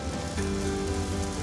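Onions sizzle in a hot pan while being fried and stir-roasted with cicadas, a constant crackling hiss at close range with no voices.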